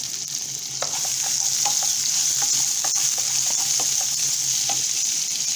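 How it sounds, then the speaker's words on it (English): Chopped onion sautés in a pan with a continuous close, loud sizzle, dotted with light clicks and scrapes from stirring, no voices. "the chopped onion. I will be sauteing it until it turns dark brown in color"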